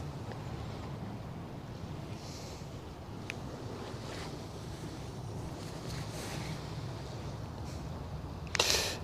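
The ship Algerie moves through waves on the Westerschelde, heard as a broad, steady wash of water and wind rushing past, with a brief louder gust near the end.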